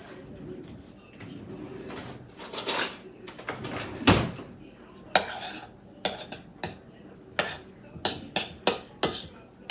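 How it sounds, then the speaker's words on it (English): Meatloaf mixture with garlic powder and Italian seasoning being mixed in a bowl, a string of sharp utensil clinks and scrapes against the dish that grow more regular toward the end, with faint background noise. "I'm going to give it a mix."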